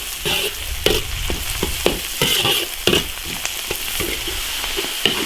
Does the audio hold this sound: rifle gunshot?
no